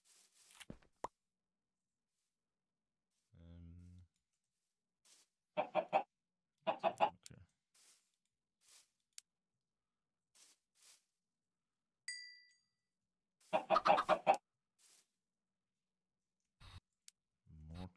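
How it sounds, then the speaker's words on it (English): Chickens clucking in the Minecraft modpack FTB Skies, a few short bursts of game clucks scattered across the clip with quiet gaps between, plus a low thump and small clicks. "More chickens, please."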